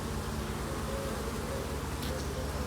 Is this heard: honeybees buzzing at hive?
yes